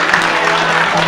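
A brief burst of applause at a school chess tournament, a short, dense patter of clapping from the gathered audience.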